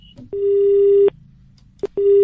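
Telephone busy tone after a caller hangs up during a radio prank call, two loud steady beeping tones separated by a short gap, heard alone without talk.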